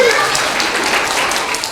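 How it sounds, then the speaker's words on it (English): An audience gives a round of applause to a group of helpers at a live family show, a dense wash of clapping filling the short moment without a break. "let's give them a big round of applause."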